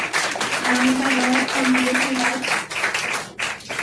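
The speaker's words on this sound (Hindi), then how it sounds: "अनामिका के प्रेजेंस के लिए जोरदार तालियां हो जाए।" Audience clapping at an institute anniversary celebration, a steady burst of many hands under a sustained voice or tone, thinning out toward the end.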